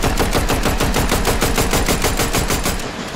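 An AR rifle in a video game fires in a long, unbroken automatic burst of rapid, evenly spaced shots, loud and close, trailing off slightly at the end.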